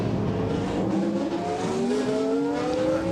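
A Dodge Viper race car in FFSA colours roars past on the Le Mans Classic circuit, its engine note rising steadily and loud alone, with a sustained pitch climb as it accelerates through a side-by-side battle.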